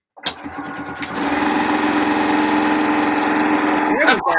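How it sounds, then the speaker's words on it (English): A sewing machine stitches the edge of a quilted holiday stocking, its motor spinning up after a click and then running in a steady, fast mechanical whir. "And now I'm just going to stitch up around the edge."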